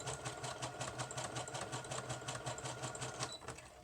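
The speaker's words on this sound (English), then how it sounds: "that makes it easier to go through the sewing machine on" A sewing machine runs steadily through junk journal pages, its rapid regular stitching clatter repeating at an even pace, fairly quiet with no talking.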